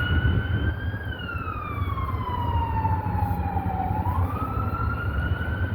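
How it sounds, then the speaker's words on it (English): A police car siren wails steadily on the Las Vegas Strip, sweeping down and back up in pitch, heard over a low rumble of stuck traffic. "There's where the siren was. There's a cop car right there."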